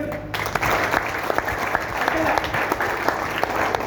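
An audience claps steadily in a meeting hall, a dense, even patter of many hands lasting several seconds with sharper individual claps poking through, while a voice speaks faintly underneath.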